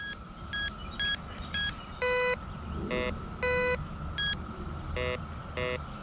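A SUFFLA beginner metal detector sounds a buried target over soil, giving a series of short electronic beeps in an uneven rhythm, some single tones and some rapid warbling bursts, loud and close over a steady low hum.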